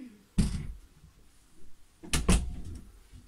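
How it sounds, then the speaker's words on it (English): An indoor door is pushed shut with two dull thuds a couple of seconds apart, with quiet room sound and light shuffling between them. "Close the door for me."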